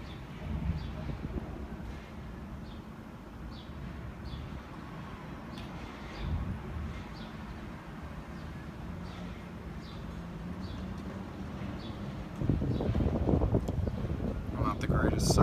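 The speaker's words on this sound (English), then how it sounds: "It's also windy, which is not good for soldering." Gusty wind buffets the microphone in low rumbling bursts, growing stronger near the end, with faint chirps in the background.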